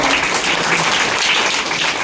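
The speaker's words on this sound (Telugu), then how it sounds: "అనిల్ కోసం చప్పట్లు కొట్టున్నాను" Children clap together in a lively burst of applause, a dense, continuous patter of many small hands close by, with no speech over it.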